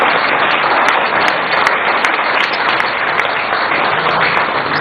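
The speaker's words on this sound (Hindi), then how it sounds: "भाई ताली बजानी तो जोर से बजाओ, जोर से बजाओ" A large crowd at a book launch ceremony in New Delhi applauds loudly and steadily, the dense clapping continuing without a break from start to finish.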